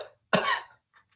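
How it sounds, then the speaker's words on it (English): A single strong, forceful cough close to the mic, followed by a couple of faint breathy sounds. "do a strong cough"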